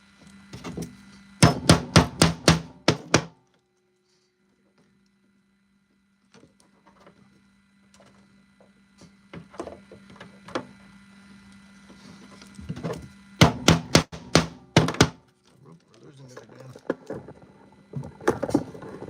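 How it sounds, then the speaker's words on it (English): Two bursts of rapid, sharp hammer strikes while building armor, each a quick cluster of loud knocks, separated by quieter clatter and a faint steady hum. "The tripod does not react well to the hammering."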